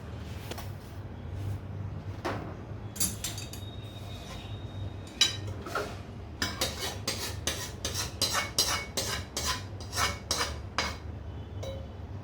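Roasted gram flour is scraped and transferred into roasted semolina in a pan. A spoon clinks and scrapes against the metal in a run of sharp, irregular taps, close and fairly quiet, with no voice.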